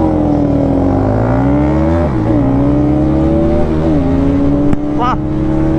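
Yamaha R15 V3 with an aftermarket exhaust and Bajaj NS200 BS7 motorcycles rev hard at a drag race start, their engines rising and falling in pitch close by and loud, with a sharp crack near the end.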